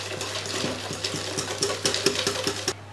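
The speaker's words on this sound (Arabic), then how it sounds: "ثم غادي نضيف هاد الحليب والشكلاط على البيض" A milk and melted chocolate mixture is poured onto eggs, a close splashing trickle with soft rhythmic glugs and drips over about three seconds, no talking.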